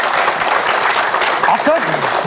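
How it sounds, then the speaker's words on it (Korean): A studio audience breaks into brief, dense applause on a Korean TV talk show, a short burst of many hands clapping with some voices mixed in. "박수 좀 보내주시겠어요?"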